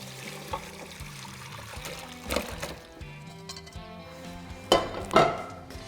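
Boiled potatoes for gnocchi are drained from a pot, with a soft trickle of water, clinks of metal pots and utensils, and a couple of louder splashy pours near the end.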